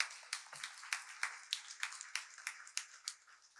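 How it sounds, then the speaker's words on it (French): A small congregation applauds, with a handful of quick, crisp hand claps repeating in an uneven rhythm, fairly close and alone without talk. "Merci, on vous applaudit."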